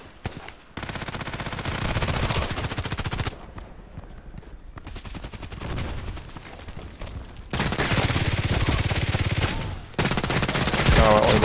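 Gunfire in the Contract Wars shooter game: bursts of rapid automatic fire and single shots, loud and close, coming in several separate strings with short pauses between them and no talking over them.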